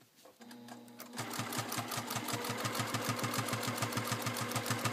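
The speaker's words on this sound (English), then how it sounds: "So I'm going to travel stitch" A domestic sewing machine travel stitching during free-motion quilting of a quilt block, its needle running in a fast, steady rhythmic chatter that starts after a brief pause and continues close and even to the end.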